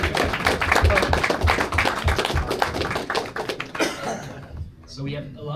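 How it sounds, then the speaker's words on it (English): Audience members at a South Bay generative AI meetup clap in a dense, close burst of applause that tapers off after a few seconds, with voices talking over it. "Round of applause."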